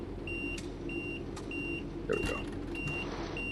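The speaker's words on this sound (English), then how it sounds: "That beeping is the safety system, because there's no driver in the seat." In a video game, a vehicle's safety system beeps because the driver's seat is empty, giving a regular run of evenly spaced electronic tones over low engine hum, with a brief clatter midway and a voice speaking briefly.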